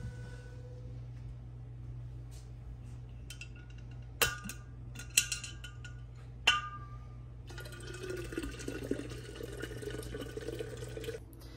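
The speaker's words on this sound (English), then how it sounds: "once we pour the boiling water in, it'll kind of mix with this." Boiling water trickles and streams into a glass jar of warm water for homemade yogurt incubation, faint over a low hum, with a few sharp knocks before a steadier pour fills the last few seconds.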